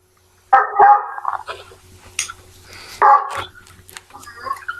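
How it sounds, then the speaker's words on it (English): A dog barks loudly nearby in two sharp clusters of yips and barks, with quieter whimpers and a muffled voice in the gaps between them. "I can't hear through the dog."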